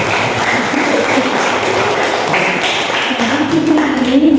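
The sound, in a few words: applause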